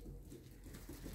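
Pigeons cooing indoors, soft low murmuring coos repeating under faint background noise, quiet and close.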